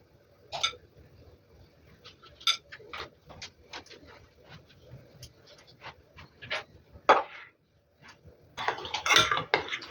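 A utensil clinks and scrapes against a bowl while mayonnaise and eggs are stirred into a batter, giving irregular close taps that end in a quicker flurry of scraping.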